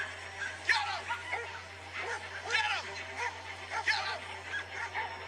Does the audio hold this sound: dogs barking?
yes